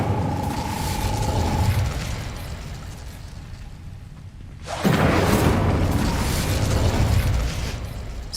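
An Incendio fire spell cast in Hogwarts Legacy, bursting into a loud whooshing roar of flame after a brief lull, over a continuous game ambience.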